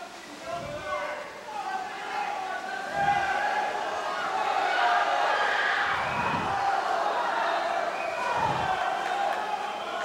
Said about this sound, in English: Both teams off their benches cheering on the swimmers, trying to give them some encouragement.